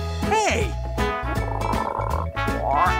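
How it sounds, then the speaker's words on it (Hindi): A frog at a zoo croaks in a series of loud, close, tonal calls with a rhythmic, repeating pattern. "ये एक मेंढक है।"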